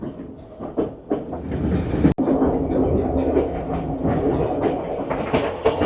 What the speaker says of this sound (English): So this railway is actually a narrow gauge railway.